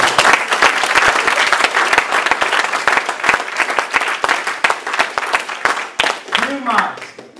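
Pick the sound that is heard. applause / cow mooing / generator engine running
applause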